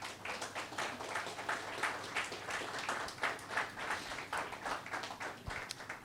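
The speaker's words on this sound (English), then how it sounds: "Let's clap for him." Church congregation applauding during a Sunday praise and worship service, a steady, dense round of clapping from many hands that holds for about six seconds at moderate distance.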